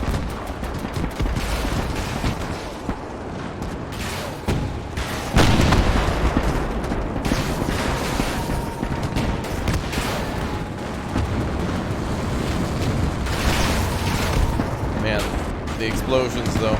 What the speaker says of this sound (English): Man, the explosions though.